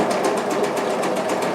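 A sewing machine zigzag-stitching fabric pieces for a rug made from old clothes, its needle clattering in a fast, even rhythm, close and steady.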